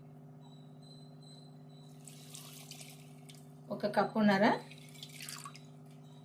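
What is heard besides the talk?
pouring water into moong dal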